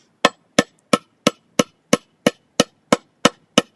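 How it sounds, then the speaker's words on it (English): A hammer strikes a screw into a wooden board eleven times in a steady, even rhythm, each blow a sharp, close knock with a short ring and clean silence between. "Let's try to hammer this screw into this board."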